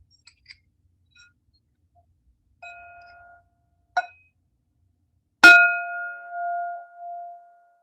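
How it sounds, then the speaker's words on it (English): A bell sounds alone in near silence: a few light taps and short metallic dings, then one firm strike that rings out with a long, fading tone. "Let's go to bell 2."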